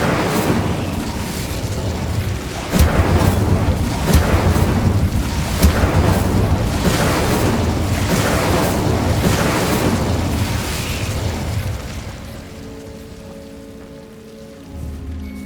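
A fire spell cast in Hogwarts Legacy fills the scene with a loud, sustained roaring crackle of flames that persists steadily for many seconds before tapering off, with a faint tonal hum near the end.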